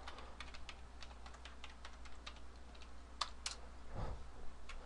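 Someone types a new password on a computer keyboard, a steady stream of close, light key clicks with a few sharper taps over a low background hum.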